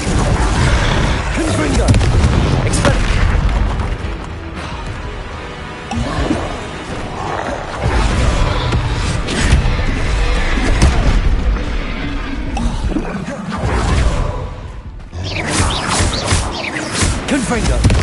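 Confringo fire-spell blasts in a Harry Potter video game erupt as repeated heavy booms and crashes over a busy, continuous battle din, loud and close, mixed with shouted voices.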